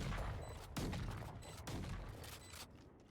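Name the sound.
gunfire in the video game Valorant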